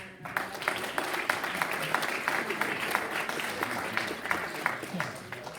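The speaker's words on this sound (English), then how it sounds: "So another round of applause for" An audience at an evening talk applauds, with sharp individual claps ringing out over a looser bed of clapping while voices murmur underneath throughout.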